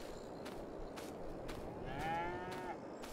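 Cattle in a Farming Simulator 22 video game barn give a drawn-out moo over a steady ambient hum, with faint clicks and footsteps around it and no one speaking.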